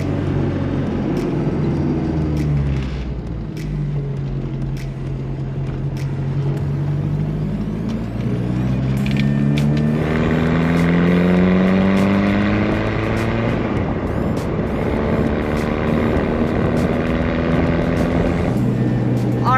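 A diesel VW Rabbit pickup truck drives along a country road at night, its engine droning steadily with rising and falling pitch as it shifts through gears, loud and continuous throughout.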